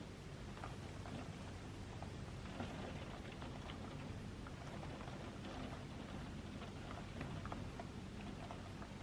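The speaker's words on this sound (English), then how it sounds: "Why was it sunny this morning and now torrential rain?" Torrential rain pours down in a steady, dense roar that stays loud and unbroken throughout, with no voices heard.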